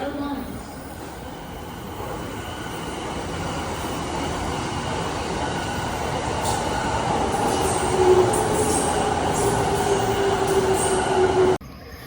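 Train pulling into a Tokyo station platform, a steady rumbling roar of rail cars rolling in with rising wheel squeal and a few clanks, loud and close, ending abruptly.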